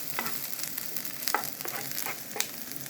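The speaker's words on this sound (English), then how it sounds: "Once it's hot, we are gonna add our garlic, diced garlic, and diced ginger. Then just mix them up." Diced garlic and ginger fry in a hot pan with a steady crackling sizzle, while a utensil scrapes and stirs through them in irregular strokes, close and moderately loud.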